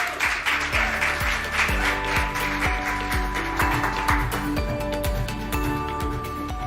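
Audience applause welcomes a speaker at the SAB Zenzele share launch, a steady wash of clapping blended with rhythmic background music throughout.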